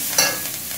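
Chopped onion fries in a pan for egg chicken pasta, a loud close hiss of sizzling with one quick stirring scrape near the start, lasting under a second with no voices.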